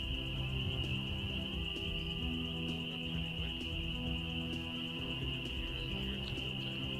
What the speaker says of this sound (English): The sound you hear are frogs.